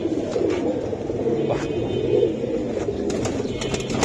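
Pigeons coo in soft, low, repeated calls throughout, fairly close, with a steady murmur of birds around them.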